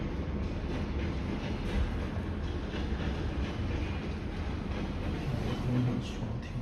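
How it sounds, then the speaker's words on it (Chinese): A train passes outside a third-floor window roughly 50 metres away, its steady, loud rumble and rail clatter carrying in through the open window without pause. "火车的声音。"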